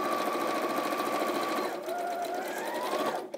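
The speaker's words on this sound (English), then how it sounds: "When you get to that first pen mark, just raise your presser foot, tease your fabric across, and start by reverse stitching" A sewing machine runs steadily close by, reverse stitching through fat quarter fabric with a continuous loud whirring hum whose pitch shifts partway through before it winds down at the end.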